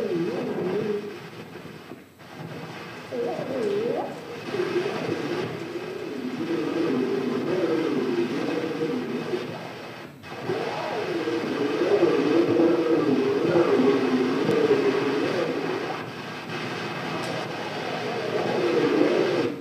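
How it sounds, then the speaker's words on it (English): Railway trestle resonates as a train passes over it, a steady droning rumble with wavering tonal hum, continuous and fairly loud for the whole stretch with no talk. "This is the sound the trestle made as the train went by."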